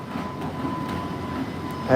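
A train rolling past in New Orleans, a steady low rumble and clatter that holds for a couple of seconds at moderate volume, with a brighter metallic sound rising at the very end.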